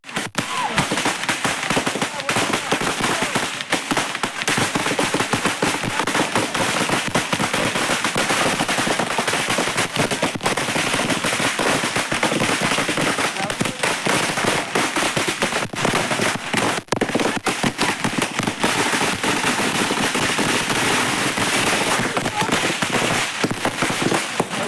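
Firecrackers set off by the groom at an Assamese wedding burst in a loud, dense, unbroken string of rapid crackling bangs that runs nonstop for over twenty seconds, like machine-gun fire.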